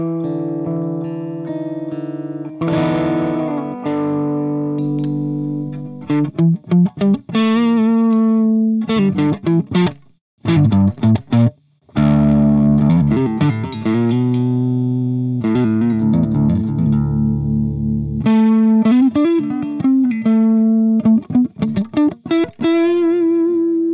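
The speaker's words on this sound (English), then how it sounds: "this is the clean amp, so you get some breakup right out of the box with that gain cranked" Electric guitar played through the Overloud TH3 clean amp with the gain cranked, loud and upfront, mixing sustained chords and choppy riffs with a gritty, broken-up edge and a couple of brief pauses.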